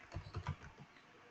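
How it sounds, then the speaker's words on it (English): Keys on a computer keyboard are tapped in a quick, soft burst of several presses, faint and close, then fade out, with no voices. "you just type here"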